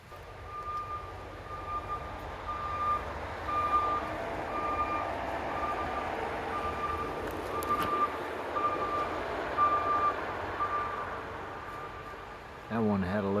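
Truck hauling a load of gravel rumbles past on a road in a mountain gorge after a flood, a steady low drone with a repeating reversing-style beep tone, fairly distant and muffled.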